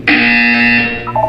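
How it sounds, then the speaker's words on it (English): A harsh, sustained electronic buzzer blares in the Portal video game, one loud tone lasting about a second before tapering into a brief fainter tone. "You will hear a buzzer."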